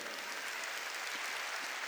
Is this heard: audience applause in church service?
yes